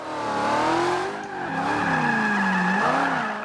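A 2015 Ford Mustang GT in the video game Forza 5 drifts continuously, its tires squealing in long, wavering tones over a steady engine roar, with no voices.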